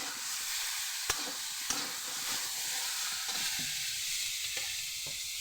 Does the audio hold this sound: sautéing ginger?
yes